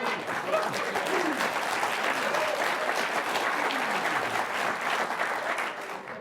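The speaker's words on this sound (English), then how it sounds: "I hope you're applauding her inspiration for everybody" A studio audience breaks into sustained, fairly loud applause, dense clapping from many hands holding steady throughout.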